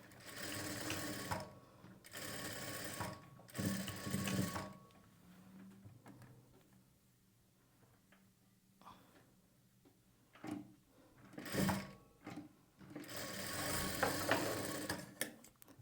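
Sewing machine double-stitching a blouse shoulder joint, a close mechanical whir in a few bursts with quiet gaps and faint clicks between runs.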